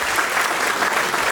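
Applause from a group gathered at a municipal event, honoring a local guide, steady dense clapping filling the whole stretch at close range with no talk over it.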